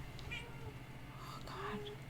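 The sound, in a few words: cat meowing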